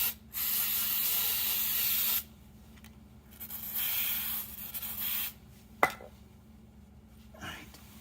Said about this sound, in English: spray both of these